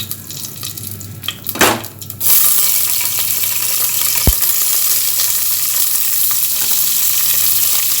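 Slit green chillies are sautéed in a pan for mutton kurma. A few seconds of clattering and stirring give way to a loud, steady sizzle that continues to the end.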